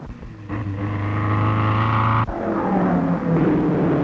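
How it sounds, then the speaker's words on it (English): 1930s streamlined race car engines of 400 to 500 horsepower roar loudly and continuously, the pitch shifting abruptly partway through as one engine drops out and another takes over. "their engines have 400 to 500 horsepower with sound effects in proportion"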